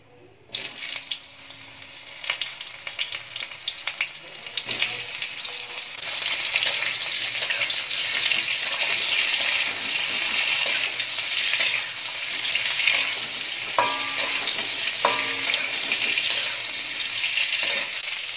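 Raw mango pieces drop into hot mustard oil with panch phoron, bursting into a loud, dense sizzle that settles into a steady close frying hiss, with faint clinks of a utensil.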